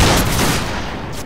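A volley of musket fire in the Battlegrounds 3 video game during a multi-clan line battle event, a dense, loud crackle of many shots bursting together and quickly trailing off.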